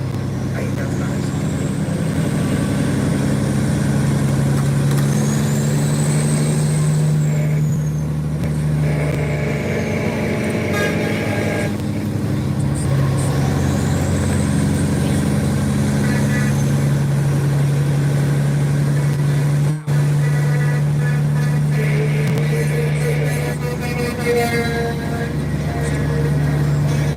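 An old Kenworth truck idles close by with a steady low engine drone and harmonic rumble, a faint whine rising and falling over it, while people talk nearby.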